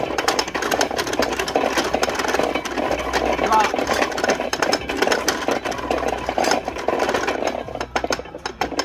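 Apple grinding machine spinning at a historic site, a continuous close mechanical whirring with rattly clicks, heard beneath people talking nearby.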